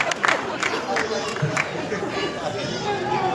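Clapping and cheering from an audience at a musical night with singers, a burst of claps early then a steady crowd murmur and chatter underneath.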